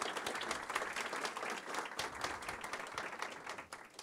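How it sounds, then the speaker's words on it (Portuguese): At a panel event on rural land tax, the audience gives a continuous round of applause, dense and even, heard faintly and at a distance. "a quem eu peço uma salva de palmas"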